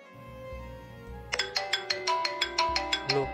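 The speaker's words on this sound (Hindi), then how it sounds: "लो, फोन भी आ गया।" A mobile phone ringtone for an incoming call starts abruptly partway through and repeats as a steady run of bright, evenly spaced electronic chimes, close and clear over a faint indoor hum.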